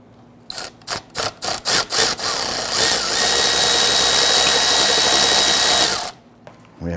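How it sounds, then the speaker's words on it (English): Socket wrench on a swivel with extensions working a radiator hose clamp on a 1999-2004 Jeep Grand Cherokee 4.7L V8, heard as a quick burst of about six sharp clicking pulses followed by a sustained loud whirring buzz that cuts off abruptly. "we're going to use a socket with a swivel and some extensions to go ahead and gain access to this hose clamp here"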